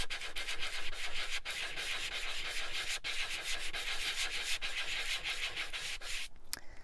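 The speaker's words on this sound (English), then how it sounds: "I am going to use a little sanding block, and I just want to sand this area just a little bit" A small sanding block rubbed over a paper greeting card, a continuous close scratchy rasp with fine back-and-forth strokes for several seconds, ending with a couple of light taps, and no voices.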